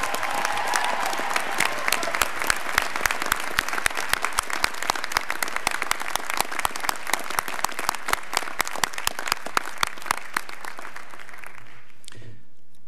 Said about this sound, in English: how about a round of applause for the faculty of this institution?